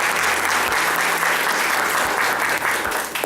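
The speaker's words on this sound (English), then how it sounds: "clap for yourself." An audience at a UN Resident Coordinator's visit claps for itself in dense, sustained applause that is loud and steady throughout, with no talk over it.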